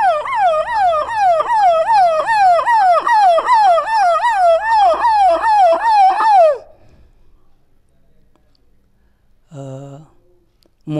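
A Chhattisgarhi mimicry artist imitates an ambulance siren with his voice, a loud, looping wail that rises and falls rapidly for about six seconds, then stops abruptly, followed by a brief quieter vocal sound.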